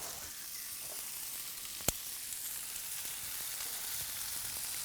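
Lamb kofte sizzle under a barbecue grill with a steady, soft crackling hiss throughout and one sharp pop partway through.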